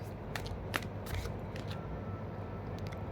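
Tarot cards riffled in a shuffle, a few crisp flutters standing out over a steady low background hum, close and fairly quiet.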